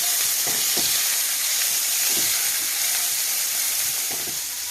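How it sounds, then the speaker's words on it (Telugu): Boiled rajma beans tipped into a hot pan of oil and curry leaves, fry with a loud, steady hiss of sizzling that stays nearly constant throughout, with faint stirring clicks and no talking. "రాజ్మా గుగ్గిళ్ళు వేస్తున్నానండి."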